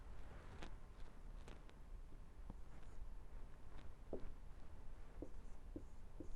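Chalk or marker strokes on a classroom board during a grammar lesson: a series of short, light taps and scrapes in an irregular rhythm, fairly faint over a steady background hiss, with no talking.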